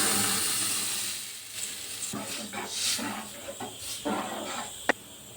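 Mango dal hits crushed garlic fried red in hot mustard oil, giving a close, hissing sizzle that swells into uneven bubbling bursts with a sharp pop near the end.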